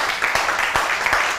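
Audience clapping for a singer at a weekend entertainment event, a dense wash of applause with sharper individual claps standing out, loud and continuous throughout.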